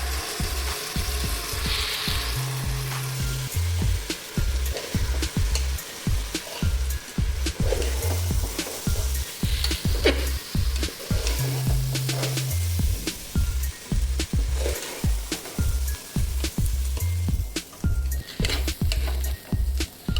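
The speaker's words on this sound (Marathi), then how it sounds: "आता आपल्याला धुतलेलं तांदूळ याच्यामध्ये घालून घ्यायचे तेही जरा चांगलं भाजून घ्यायचं" Washed rice roasts in a hot pan, with a loud, continuous sizzle broken by repeated scraping stir strokes throughout.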